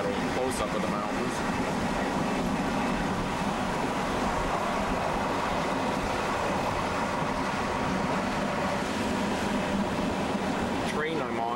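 A passenger train rolls through the High Tatras near Poprad in 1991, a constant loud rumble of wheels and carriage noise filling the whole stretch, with faint voices in the background.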